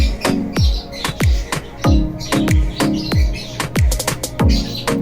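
Half-sider parakeets near a nest box give a run of loud, sharp, close chirps and squawks, repeating in quick irregular bursts with no voices.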